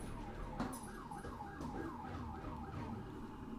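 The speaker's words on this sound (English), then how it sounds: "Oh, that's a spooky siren." A spooky wailing siren in a video game match, rising and falling in a steady repeating sweep, moderately faint and alone without talk.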